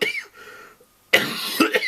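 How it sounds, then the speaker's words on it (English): Several hard, rasping coughs from someone recovering from a cold, close and loud, with a short quieter throaty sound before a second burst of coughing. "I'm just getting over a cold. I've been left with this cough."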